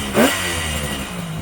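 A warmed-up 1973 Kawasaki S2 two-stroke motorcycle engine gives a quick sharp rev that rises and then drops back to a steady, buzzy idle, loud and close.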